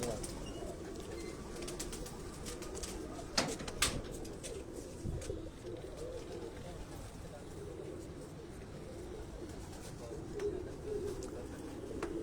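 Breeder pigeons coo softly in a rooftop loft, low and fairly faint against a quiet background, with a few sharper knocks and some voices nearby.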